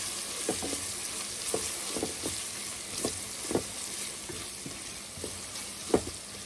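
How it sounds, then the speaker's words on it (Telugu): Ginger paste stirred into cooked-down tomato pieces in a pan, a steady bright sizzle with regular spoon knocks and scrapes about every half second, close and without voices. "ఈ టమాటా ముక్కలు ఉడికిపోయాయి. అల్లం పేస్ట్ వేసుకొని కలుపుకోవాలి."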